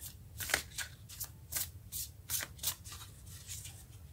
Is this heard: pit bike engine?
no